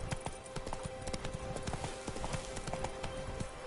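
A horse gallops in The Witcher 3: Blood and Wine, its hooves giving a fast, even clip-clop rhythm with a steady game tone beneath, moderately loud and close throughout with no talk.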